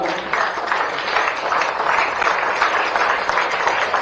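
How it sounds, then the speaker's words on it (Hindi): Loud, steady applause from a ceremony crowd while a father is honored with a memento presented by a sports minister; dense clapping holds at an even level throughout with no break. "आप सबकी जोरदार तालियां"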